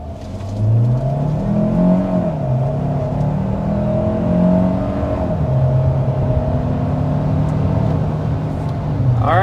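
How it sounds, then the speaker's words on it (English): Inside a 2025 Kia Sorento Hybrid under hard acceleration to 60 mph, a loud, sustained engine drone rises in pitch through the shifts and whirs steadily over road noise, heard from the cabin. "we want to go ahead and start with a hard acceleration"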